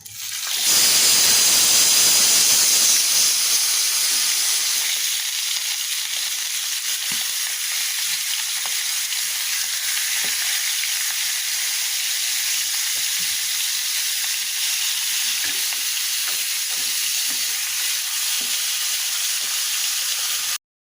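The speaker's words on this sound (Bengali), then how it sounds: "তেল গরম হয়ে এসেছে এখন মাছগুলো একটা একটা করে দিয়ে ফ্রাই করে নেব" Pieces of rohu fish rubbed with turmeric and salt fry in hot oil, giving a loud, steady, close sizzle with a sharp burst at the start and faint crackles throughout, no voices.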